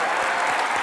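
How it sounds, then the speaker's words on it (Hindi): Studio audience applause on a comedy talk show, a brief burst of dense clapping from the crowd lasting under a second. "जोरदार तालियां हमारे गब्बर के लिए"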